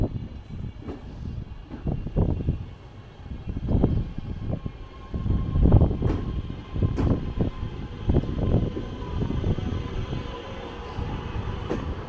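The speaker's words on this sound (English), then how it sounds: "Here comes the train." A train rumbles into Glossop station steadily, wheels clattering and engine droning, growing louder as it pulls in close, with a faint high tone above.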